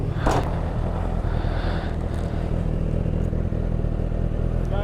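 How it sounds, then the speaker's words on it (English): A Honda CBR1000RR sportbike ridden along an unpaved green lane, its engine holding a steady, close, loud drone with a light clattering rattle throughout. "You can see you can green lane on a sport bike."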